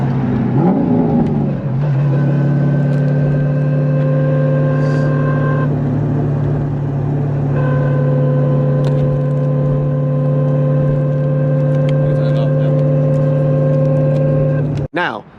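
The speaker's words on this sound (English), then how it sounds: "I can be on the street or I can be on the highway and I get this whining noise from the rear" A C5 Corvette Z06's rear differential gives off a loud, steady whine of sustained tones around 2,000 RPM on street or highway, running continuously under engine and road noise before cutting off near the end.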